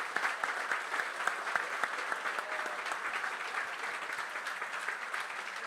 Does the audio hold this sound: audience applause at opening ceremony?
yes